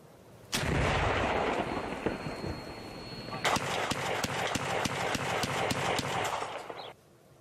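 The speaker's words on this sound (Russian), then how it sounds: "Украинские военные ведут огонь из противотанкового и автоматического гранатометов." Anti-tank and automatic grenade launchers firing near Donetsk: one loud blast opens a sustained rumble, then a rapid train of sharp repeated shots follows for several seconds, loud and close.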